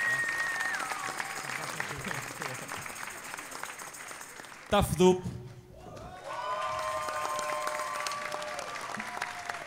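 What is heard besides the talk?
audience applause for university tuna groups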